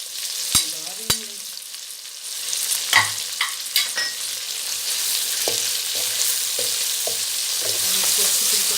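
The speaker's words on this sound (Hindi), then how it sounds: "हम इसको अच्छी तरीके से फ्राई करेंगे, इसमें मिक्स करेंगे लहसुन अदरक को" Chicken fries with garlic-ginger paste in a pan for a tinda gosht curry. A few sharp utensil knocks come early, then steady close sizzling continues with soft scraping stirs throughout.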